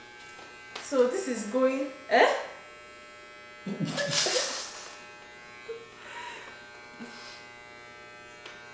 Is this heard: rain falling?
no